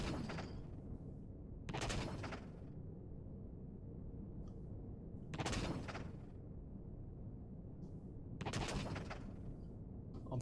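A railgun in Empyrion Galactic Survival (Alpha 7.6) fires repeatedly, giving four loud, sharp discharges spaced a few seconds apart over a low, steady engine hum.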